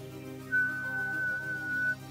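A person whistles a single steady, thin, high note imitating a mysterious whistle heard at night, held for about a second and a half, close and fairly clear over a low background hum.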